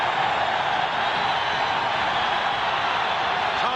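Fans on their feet at a Pistons versus Lakers NBA game keep up a constant, loud, enveloping roar of cheering, with a commentator talking beneath the noise.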